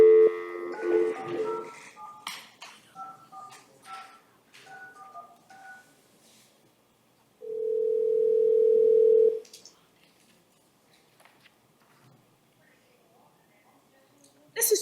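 A desk telephone in a jail courtroom is dialed with 9 first: a run of short keypad beeps, then a steady dial tone lasting about two seconds, with faint voices and handling noises around it.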